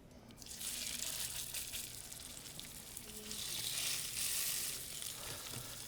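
Grouper fillets sear in a hot cast iron pan with a thin film of oil, giving a broad, continuous bright sizzle that swells and holds steady, close up.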